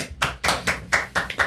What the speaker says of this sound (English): Round of applause for the boss man.